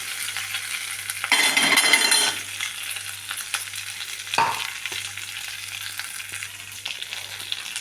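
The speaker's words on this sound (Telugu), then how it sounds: "పచ్చివాసన పోయేదాకా ఇలా కలుపుకోవాలి" Spices with curry leaves, chili powder and crushed garlic frying and being stirred in a pan, a steady sizzle with a louder burst of stirring and scraping, then a sharp clink, with no talking.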